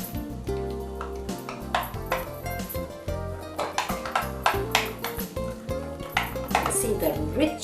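Clinking and scraping of a spoon in a bowl as lemon juice, oil, yogurt and tandoori powder are mixed into a marinade, busy utensil knocks continuing throughout under a speaking voice.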